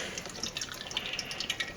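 Liquid is poured into a bowl while making cheesecake, giving a soft trickling, dripping splash that flutters unevenly for a couple of seconds at low volume.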